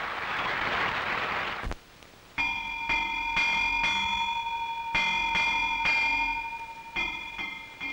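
A bell rings at dawn on a small 1960s island, a run of clear metallic strokes with a lingering ring, heard over steady background hiss after a brief rush of noise.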